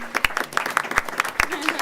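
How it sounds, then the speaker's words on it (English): An audience claps for host families in a short burst of steady applause, sharp individual claps standing out over a softer crowd wash. "please give them a round of applause"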